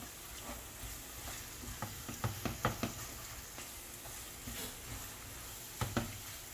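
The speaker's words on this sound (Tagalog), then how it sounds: "antay lang natin maluto yung giniling" Ground pork frying in a pan for a Filipino eggplant omelette dish, with soft continuous sizzling and a few brief scrapes and stirring knocks, close and fairly quiet, no talk.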